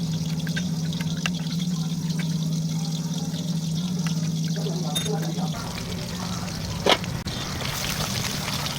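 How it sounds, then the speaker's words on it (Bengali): Water poured into a bowl holding turmeric, chili and cumin powder, a continuous trickling pour that runs for several seconds before thinning out near the end, with a brief clink. "একটা বাটিতে একটু পরিমাণে জল নিয়ে তাতে হলুদ গুঁড়ো, লঙ্কার গুঁড়ো, জিরের গুঁড়ো দিয়ে এটাকে কিছুক্ষণ রেখে দেব"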